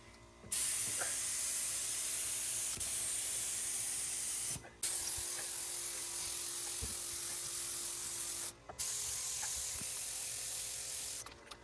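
A spray gun applies lacquer to cabinets in three long, steady bursts of loud, close hissing, each broken by a brief pause.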